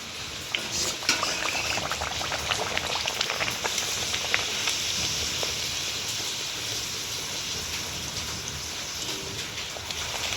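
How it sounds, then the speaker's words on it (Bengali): Palm luchi, a puffed flatbread made with palm fruit, fries in hot oil. A dense, steady crackling sizzle continues evenly throughout, close and moderately loud, with no voices. "তেলটা গরম হয়ে গেছে এবার আমি লুচিটা দিয়ে দেবো"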